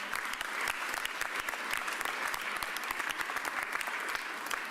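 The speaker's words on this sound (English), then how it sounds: "So please give my members a real big round of applause." A crowd applauds Philadelphia city council members at an announcement of a new 76ers and Flyers arena, sustained, even clapping with sharp individual claps standing out, heard somewhat distant and quiet.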